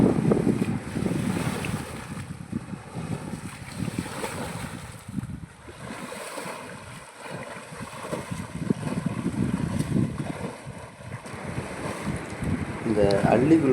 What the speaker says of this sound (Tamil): காற்றுனாலும் நல்ல காற்று, சரியான காற்று